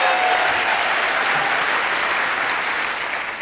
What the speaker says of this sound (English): And I can clap also.